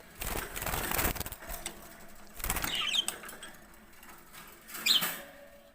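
Bursts of wings flapping as startled budgerigars take off, several flurries spread across a few seconds with faint chirps between.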